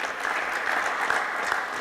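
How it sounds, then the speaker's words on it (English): A conference audience at a tennis coaches' event in Minsk applauds with steady, dense clapping that stays loud and even throughout, with no pauses and no voices on top. "A round of applause for Philip"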